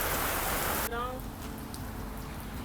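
Rain falls outdoors during a 2014 Nissan Maxima headlight replacement, a loud, close hiss that drops sharply after the first second to a softer steady patter, with a voice present.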